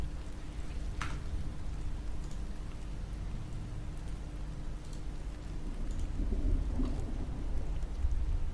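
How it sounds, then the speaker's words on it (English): Steady rain patters on a surface with a low rumble of thunder underneath, swelling louder toward the end, heard from indoors with no voices. "It's raining over there now."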